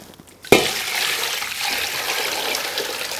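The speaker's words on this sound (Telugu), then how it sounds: "ఇప్పుడు మనం తేటగా నీళ్ళు పోసి మళ్ళీ ఆడబెట్టుకుందాం" Water poured over washed ration rice in a vessel to soak it, a steady close pour that rushes in abruptly and keeps flowing without talk.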